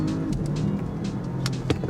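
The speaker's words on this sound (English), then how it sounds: "So if I were to drop it to second and press that button and floor it" Porsche Panamera Sport Turismo from 2021 accelerating hard in second gear with the performance boost engaged, a close, loud engine roar over road and wind noise with brief bursts, no speech.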